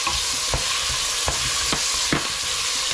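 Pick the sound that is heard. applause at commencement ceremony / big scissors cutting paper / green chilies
green chilies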